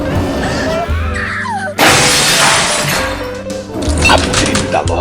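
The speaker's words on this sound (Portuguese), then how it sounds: "A vitrine da loja estilhaçou." Shop display window glass shatters in one loud, sudden crash, with scattering fragments following, set amid a dramatic background score.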